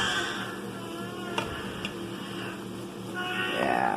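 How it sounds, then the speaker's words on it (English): Ground beef fries in a pan for stuffed shells, a steady soft sizzle with a few light clicks and scrapes of stirring and a brief louder hiss near the end. "Still got my meat here frying."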